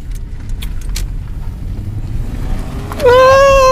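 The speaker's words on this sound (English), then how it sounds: "This car makes a lot of noise for not doing much." Steady low car engine rumble while driving, a rough and busy drone that lasts throughout, with a sudden loud whistling or squealing tone swelling up near the end.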